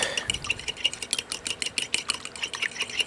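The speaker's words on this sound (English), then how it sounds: "we need 2 eggs that we are gonna whisk together with a fork" A fork whisks two eggs in a bowl, giving rapid rhythmic clicking taps against the dish, close and fairly loud, repeating steadily for a few seconds without speech.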